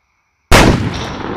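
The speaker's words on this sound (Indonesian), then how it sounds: "Coba deh pakai yang petasan besar." A single loud, sharp blast of a large firecracker inside a pumpkin bursts out of silence, then a short rumbling decay trails off.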